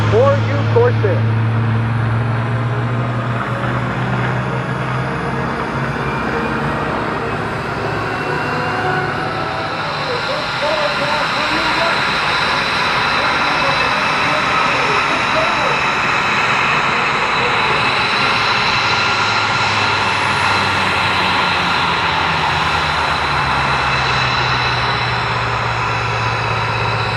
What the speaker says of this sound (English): Korean war hero is F4U Corsair